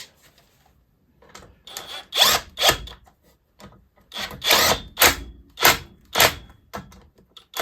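A power drill snugs bolts on a Poulan 3800 chainsaw in several loud, close bursts of whirring and rattling, each lasting about half a second, with short pauses between them and no talking.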